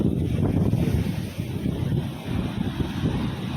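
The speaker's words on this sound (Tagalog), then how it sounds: "Lakas po ng alon, no?" Strong ocean waves and gusting wind at Salmon Beach, a continuous low roar of surf with wind buffeting the microphone, loud and close throughout.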